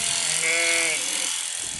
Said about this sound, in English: This is the very last sheep.